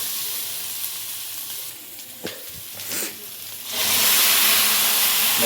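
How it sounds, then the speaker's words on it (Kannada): Ground masala sizzles and fries in hot oil for a kali palav, a steady close hiss with a few soft stirring knocks, swelling louder and brighter near the end as the paste hits the pan. "ಚೆನ್ನಾಗಿ ಫ್ರೈ ಆದಮೇಲೆ ರುಬ್ಬಿಟ್ಟಿರೋ ಮಸಾಲನ ಹಾಕೊಳ್ಳಿ."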